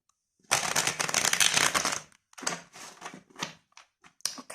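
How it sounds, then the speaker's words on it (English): Tarot cards are shuffled up close, first in one long, papery riffle, then in several shorter bursts separated by brief pauses. "Let's give it another shuffle."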